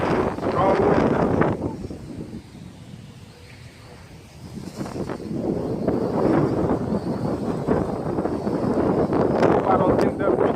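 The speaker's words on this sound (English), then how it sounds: "Strong wind now." Strong wind buffets an MJX X600 drone in flight outdoors, roaring loud and broadband across the microphone in continuous gusts that dip briefly midway before surging again.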